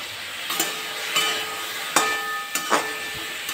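Taro stems fry in a pan with salt and turmeric, hissing steadily as a spatula scrapes and knocks through them in a handful of separate stirs, close up with no talking.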